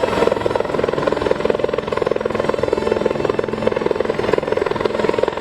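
Helicopter powered by a Pratt & Whitney PT6 engine hovering overhead during a hoist rescue at an airshow, its rotor thumping in a loud, steady, continuous drone with a dense turbine whine throughout.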